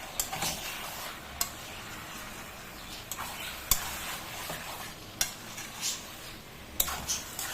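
Mutton curry being stirred and sautéed in a pan, steady soft sizzle with scraping spoon strokes against the pan at irregular intervals, a few sharper clinks standing out, close by with no talk.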